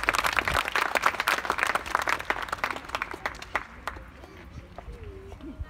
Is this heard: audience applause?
yes